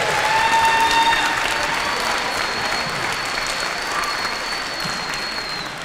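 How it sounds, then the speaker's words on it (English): Steady applause from a school band concert audience, dense clapping that fades slightly toward the end. "give them one more time, a round of applause for the hard work"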